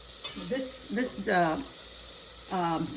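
Mushroom soup base sautéing in a little oil in a pot on saute mode, giving a soft, steady sizzle under short bursts of voice.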